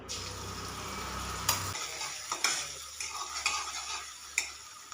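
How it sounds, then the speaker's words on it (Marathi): Green chili paste frying in oil in a kadhai, a low sizzle that drops away partway through, followed by scattered sharp clicks and scrapes of a spoon stirring against the pan, close and fairly quiet. "मिरचीची पेस्ट आपल्याला आधी भाजून घ्यायचं आहे"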